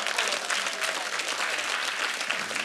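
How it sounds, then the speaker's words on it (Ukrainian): Studio audience at a televised game show breaks into brisk, dense clapping, loud and close, holding steady throughout with no voices heard. "Эти аплодисменты вам."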